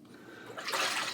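Water splashes and runs while a face is rinsed during makeup removal, starting soft and swelling into a brighter, louder splashing burst toward the end, close by, with no talking.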